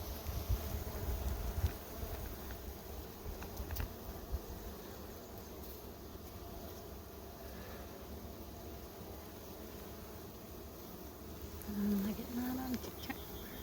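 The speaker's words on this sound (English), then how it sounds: "there's a couple of bees with pollen" Honey bees hum around a beehive frame in a low, steady buzz that runs throughout at moderate distance, with faint wind noise and brief quiet speech.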